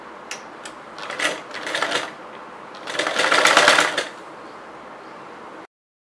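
A sewing machine stitches folded chudidar fabric in short bursts, two quick runs then a longer steady run, close and fairly loud, separated by quieter pauses before stopping.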